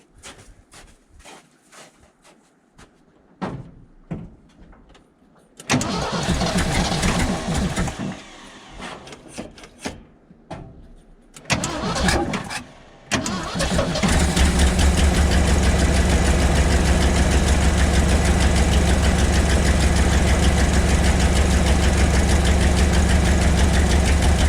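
A 1975 Ford F750 pipeline truck engine cranks in scattered bursts, catches briefly, then fires up and settles into a loud, steady close-up run with a knocking rhythm.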